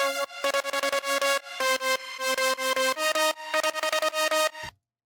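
A bright, buzzy supersaw synth lead plays a rhythmic melody of short stabbed chords in an electronic dance track, loud and alone before cutting off abruptly.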